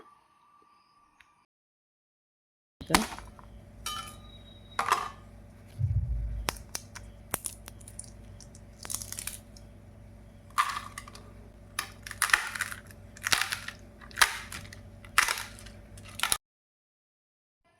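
A crisp, dry-roasted wheat chapati being broken and crushed by hand: sharp close crackles and snaps in irregular bursts after a silent start, quiet overall, ending abruptly.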